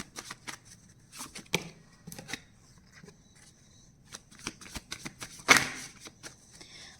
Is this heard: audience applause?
no